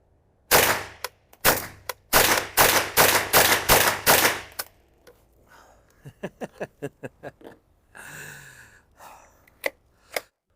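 AR-7 survival rifle firing about eight sharp, close shots in quick succession, then a run of lighter metallic clicks and clatter as the action is worked, ending with a brief rustle and a single click.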